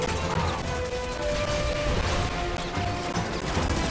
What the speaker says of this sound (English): blast them with some auto turrets